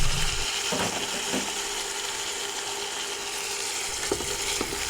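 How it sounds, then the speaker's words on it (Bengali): Flat beans and eggplant frying in a pan give off a steady, loud sizzle throughout, with a few faint scraping knocks of stirring. "আবারও নেড়েচেড়ে কিছুক্ষণ ভেজে নেব"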